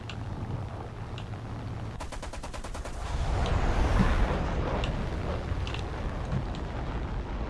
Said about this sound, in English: He's too close for missiles. Switching to guns.